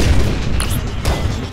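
Explosions and booms in the Breakout-style video game Ionball 2: Ionstorm, a loud rumbling blast with deep low-end weight and a couple of sharper bursts layered on top.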